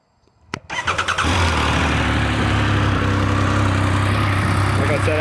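Triumph Speed Triple 1200 RS motorcycle on a warm start: a brief starter whir, then the engine catches and settles into a loud, steady, rumbling idle close by.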